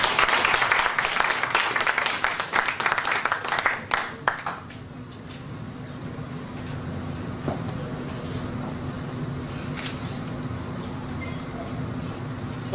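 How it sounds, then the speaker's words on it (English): Applause at a university faculty convocation in Ghana as a professor is welcomed: a burst of crisp, close clapping for about four seconds, then it stops and a quieter room with a faint steady hum remains. "With a round of applause, join me in welcoming Professor."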